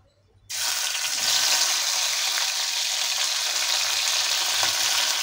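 Homemade mawa hits hot desi ghee in a pan over low to medium heat for bal mithai, setting off a sudden, steady loud sizzle that keeps going without pause and without speech.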